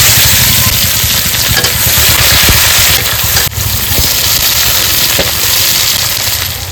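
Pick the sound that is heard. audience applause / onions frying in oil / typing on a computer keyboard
onions frying in oil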